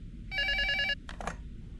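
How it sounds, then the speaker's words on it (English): A telephone ringing in the horror video game Prophecy, one electronic bell ring burst followed by a brief second partial ring, close and clear over a low background hum. "How in the hell was the phone ringing?"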